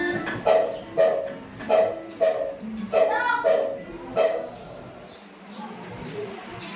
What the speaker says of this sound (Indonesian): hewannya namanya anjing